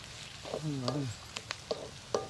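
Egg fry sautés in a hot pan with a steady background sizzle and a few sharp clicks of a spoon against the pan, while a voice talks over it.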